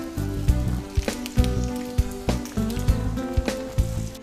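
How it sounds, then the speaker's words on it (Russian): Eggplant rings and bell pepper slices sizzle and crackle in a frying pan, a continuous hiss dotted with sharp pops and spits at an irregular rhythm, close and fairly loud with no voices. "И обжарим эти ингредиенты на сковородке."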